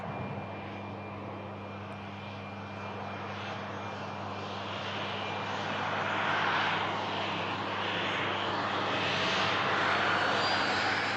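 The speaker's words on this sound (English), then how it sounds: "VistaJet's just lining itself up now for departure." A VistaJet business jet lines up for departure toward Milan, its engines giving a steady, distant broadband roar and whine that swells slowly and keeps going without a break.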